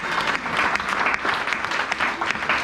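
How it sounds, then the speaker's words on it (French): Church congregation applauding, a dense steady burst of clapping from many hands filling the room, loud and close, with faint voices mixed in. "acclamons le Seigneur."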